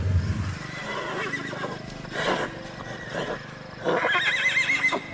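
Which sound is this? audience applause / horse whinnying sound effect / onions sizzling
horse whinnying sound effect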